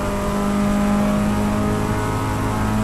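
A race car at Road America runs flat out in 4th gear, its engine a loud, steady, high-revving roar heard up close from inside without any talk.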